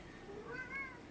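A cat meows once within The Great Ace Attorney video game, a short, rising and falling mew heard alone at moderate level.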